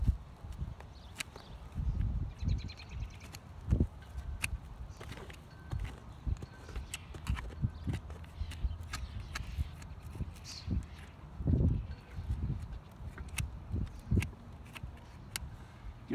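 A metal hoof pick scrapes and digs at a horse's muddy hoof, working around a lodged rock, in irregular scratchy strokes and knocks. Soft hoof shuffles and clops sound close by throughout.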